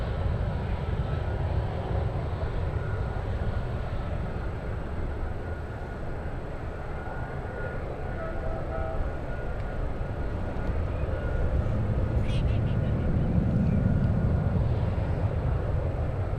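A Boeing 757 departing San Francisco for Newark gives a steady, broad engine roar that holds throughout and swells slightly toward the end, heard from a distance with no voices.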